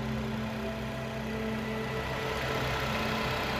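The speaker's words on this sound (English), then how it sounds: "Under the hood, we have the 2-liter turbocharged 4-cylinder motor," A Jeep Wrangler JL two-door with a 2-liter turbocharged four-cylinder engine idles under an open hood. The low, even hum is quiet and steady throughout the short stretch, with no talking.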